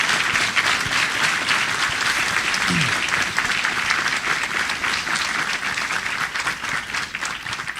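Steady, full applause fills a conference hall as the audience claps for a guest of honour at a talk on chain of custody and digital evidence; the dense clapping holds evenly throughout.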